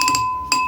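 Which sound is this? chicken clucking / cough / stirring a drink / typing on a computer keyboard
stirring a drink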